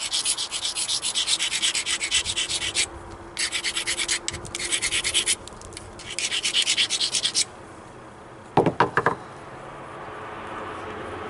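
Obsidian point being ground along its edges while flintknapping, a close, steady abrasive rubbing in bursts separated by short pauses, ending with a few sharp scraping strokes.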